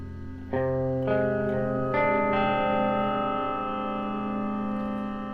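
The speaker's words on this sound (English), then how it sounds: "you can sort of hear it swell in after the fact" Sustained electric guitar chords ring out through a Klowra Limbo reverb pedal and bloom with a wash of reverb, each new chord swelling in behind the attack and lingering.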